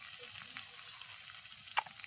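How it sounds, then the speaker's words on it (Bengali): Onions and chillies frying in a pan, a steady soft sizzle throughout with a brief stirring scrape near the end, faint and without talk. "পেঁয়াজ ভাজি হচ্ছে, পেঁয়াজ আর মরিচ।"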